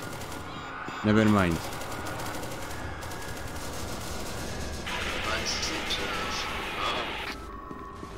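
Video game gunfire aimed at a bot in the Parabellum update, a steady crackle of rapid shots running through the clip under a brief spoken remark, with a harsher burst near the end.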